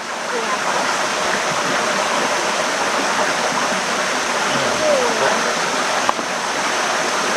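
Water poured into a pan of bamboo shoots makes a continuous, fairly loud rushing splash with a faint click near the end, and a voice speaks under it.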